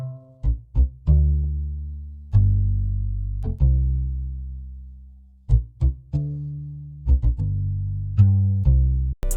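Acoustic guitar notes pitched down to stand in as a bass guitar in an R&B beat: deep, booming plucked notes in an irregular groove, each decaying slowly, with short gaps and no voices.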